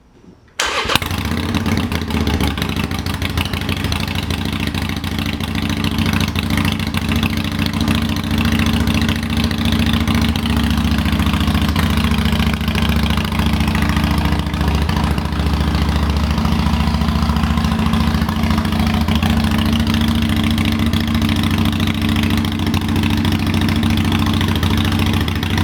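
A 2020 Harley-Davidson Iron 883 with a Python 2.5-inch slash-cut slip-on exhaust starts with a sharp catch, then settles into a loud, steady, deep idle that rumbles on close by for over twenty seconds with no talk.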